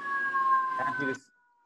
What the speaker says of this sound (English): I heard the fire trucks or the ambulance in the background.